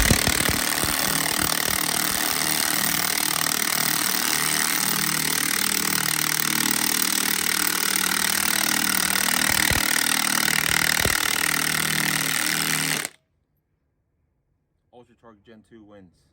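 A Hercules Ultra Torque Gen 2 3/4 inch drive impact wrench on Power Mode 3 with a fully charged battery hammers loudly and continuously for about thirteen seconds, then cuts off abruptly into near silence with a few faint trailing clicks.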